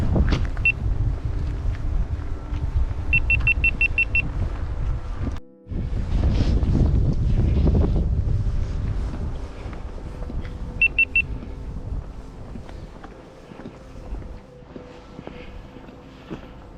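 Wind blows around the shore of the Cavayère lake, buffeting the microphone in steady low gusts that ease off toward the end, with faint background rustling.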